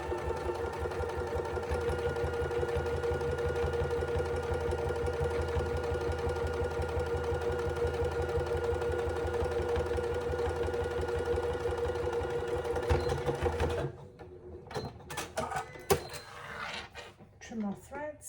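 Sewing machine stitching steadily for about thirteen seconds to close the lining gap of a zippered fabric pouch, a continuous close mechanical whir that then stops, leaving quiet handling clicks and rustles.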